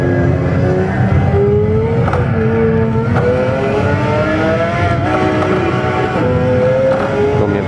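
Onboard a McLaren F1 GTR race car at a Kyalami track day, its engine droning and revving loudly and close throughout as the driver misses a gear shift, with no talking.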